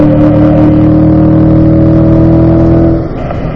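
A race car's engine at a loud, steady high-pitched drone, heard from the cockpit while climbing toward fifth gear, then dropping in pitch and volume near the end as the driver brakes.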